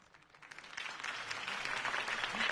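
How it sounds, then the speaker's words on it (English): A crowd applauds after a campaign speech in the Batman Telltale game, a faint wash of clapping that swells steadily louder over a couple of seconds. "could have heard that applause"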